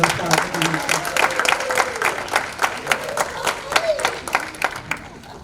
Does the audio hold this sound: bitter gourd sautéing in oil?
no